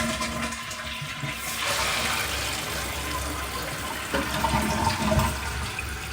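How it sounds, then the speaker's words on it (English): A freshly repaired toilet flushes with a loud rushing gurgle of water, then the tank refills with a steady hiss, close by and with no talking. "We're gonna go ahead and flush it."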